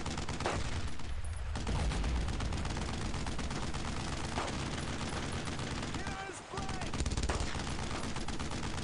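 Sustained machine gun fire and rattling gunfire in the World War II shooter Brothers in Arms: Road to Hill 30, loud and dense throughout with a brief dip near the end.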